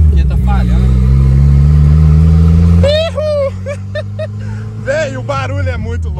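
A turbocharged 1.6 Fiat Tipo engine, misfiring and not tuned, idles with a heavy, throaty drone for a few seconds, then drops as people talk excitedly over the running motor.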